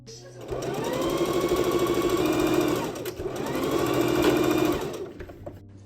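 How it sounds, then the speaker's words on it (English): A sewing machine stitches fabric crown pieces together in two steady, loud runs of rapid mechanical whirring, separated by a brief pause. "Now sew the front and back together."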